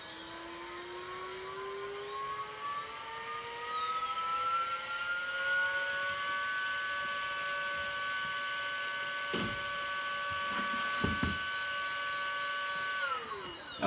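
A 2718 KV brushless FPV drone motor on a test stand spins up with no propeller fitted, its steady electric whine climbing smoothly in pitch, holding high and loud for several seconds, then cutting off sharply near the end.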